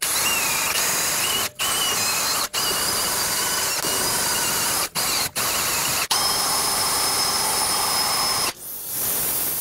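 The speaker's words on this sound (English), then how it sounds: "I'm just gonna use a wire wheel" A wire wheel scrubs the rear wheel hub area of a 2003-2008 Toyota Corolla, a loud, steady abrasive hiss with a high squeal running throughout, broken by a few short pauses and ending in a quieter trailing whir.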